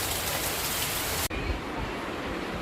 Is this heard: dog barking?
no